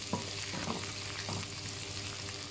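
Garlic and ginger sizzle steadily in a hot pan for a chicken curry, with a constant frying hiss and a few soft stirring scrapes, close up and with no talk.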